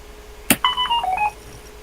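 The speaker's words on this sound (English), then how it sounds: "My phone is really annoying me. Always making noises." A phone gives a sharp click followed by a quick series of electronic beeping tones, close and loud, lasting about a second before falling back to quiet room hiss.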